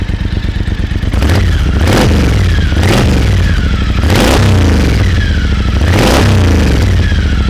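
A Triumph Thunderbird Storm motorcycle revs up close, idling briefly and then giving four or five loud, quick throttle blips that rise and fall in a regular rhythm, with no talk.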